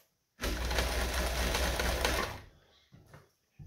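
A Kenmore 158 sewing machine runs a wide zigzag stitch at its widest setting, a steady, loud mechanical whir for about two seconds before it stops. A few faint clicks follow.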